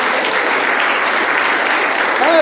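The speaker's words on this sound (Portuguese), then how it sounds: "Você pode aplaudir a Ele por isso?" A church congregation breaking into loud sustained applause during a sermon, dense clapping filling the room throughout, with a voice rising briefly over it near the end.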